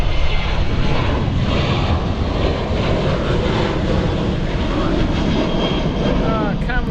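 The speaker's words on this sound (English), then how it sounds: "That's an immediate takeoff." Jet airliner making an immediate takeoff at Stansted Airport, a loud, steady engine roar filling the whole stretch with a slight rise toward the end.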